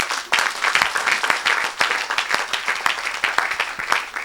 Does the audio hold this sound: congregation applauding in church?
yes